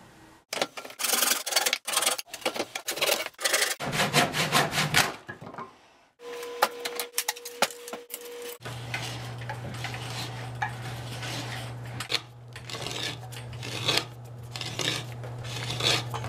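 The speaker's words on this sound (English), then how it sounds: "Let's do some chopping." Driftwood being chopped for an Adirondack chair gives a quick series of sharp, close knocks in the first few seconds, followed by quieter handling noises and a steady low hum.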